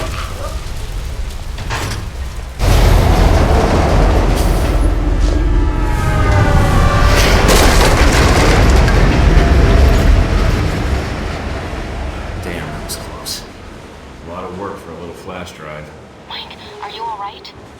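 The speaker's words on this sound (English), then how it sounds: "Think you can dodge a train?" A train thunders past in the video game Alpha Protocol, a loud sustained rumble with rhythmic clatter that bursts in suddenly and fades slowly as it moves away, with voices briefly heard around it.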